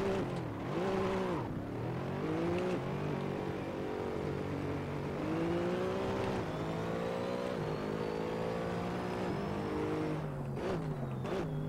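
Race car engine in Assetto Corsa, apparently a mod car such as the Acura NSX, Mercedes C63 or BAC Mono, droning loud and close as it revs up and down through gears, with repeated rising and falling pitch sweeps while driving laps.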